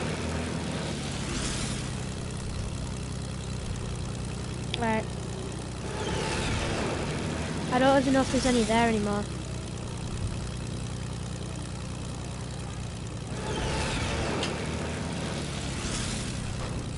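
A weak plane's engine in Fortnite drones steadily through the whole stretch with a low hum and fluctuating whine, while someone talks briefly over it.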